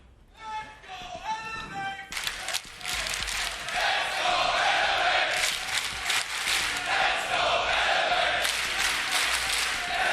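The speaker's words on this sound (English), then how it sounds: "the crowd cheering for Elevate" A large arena crowd cheers and chants at a Rainbow Six Siege esports playoff match in Berlin, loud sustained roaring with rhythmic chanting beneath excited commentary.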